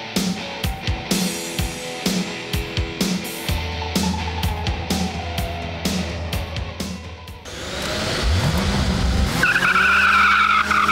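A car on a test drive skids its tires, with engine revs and a screeching tire squeal building near the end over loud, close mechanical noise.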